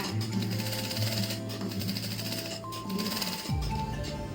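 Industrial sewing machine stitching two layers of fabric, a close steady mechanical hum with rapid needle chatter that briefly slows and dips near the end, no talking.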